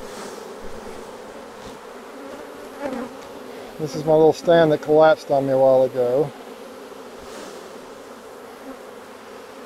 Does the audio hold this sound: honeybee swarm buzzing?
yes